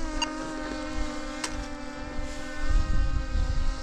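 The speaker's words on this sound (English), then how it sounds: "Drone time." Camera drone climbing high near glaciers by a mountain peak in the Alps, a steady close propeller whine with sustained harmonic tones running throughout and a low rumble swelling near the end.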